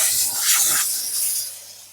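A steam cleaner hisses while cleaning a car's interior, spraying vents and the gear knob: a loud, close, breathy rush of steam in uneven bursts that swell and fade, with no talking.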